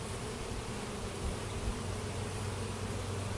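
Bees buzz steadily around an opened beehive during an inspection, a dense, continuous droning hum of many insects close by, with no pauses.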